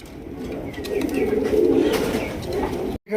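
Rajgolla pigeons at a pigeon market coo and call steadily for about three seconds, fairly close and moderately loud, with no voices over them. The sound stops abruptly near the end.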